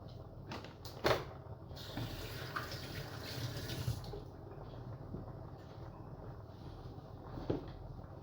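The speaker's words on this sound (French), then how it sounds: "On va mettre de l'eau." Water is poured into a pot of vegetables being cooked with peanuts and free-range chicken, a steady rushing splash that swells for a couple of seconds amid faint kitchen clatter and soft clinks.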